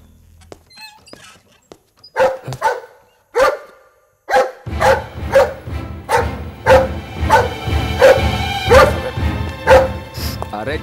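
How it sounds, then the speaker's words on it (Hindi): A dog barks repeatedly, a few sharp barks at first and then a steady run of loud, close barks at a regular pace, with a brief voice early on. "काय को भौंक रहा है तू"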